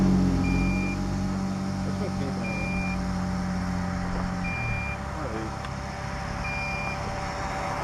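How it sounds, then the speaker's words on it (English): A timer beeps in short, evenly spaced electronic tones beside a reservoir, the beeps sitting over a steady hum and low background noise. "Oh, that's my timer."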